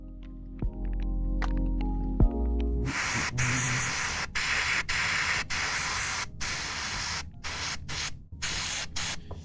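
An airbrush sprays paint onto a model in close, hissing bursts that start and stop abruptly, separated by short silent gaps, after a brief low tonal hum at the start.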